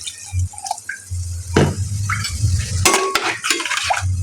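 A spoon stirs a spice and yogurt mixture in a bowl for cabbage kofta curry, giving close scraping and light metallic clinks, then water is poured in with a brief splash and drips. No voices.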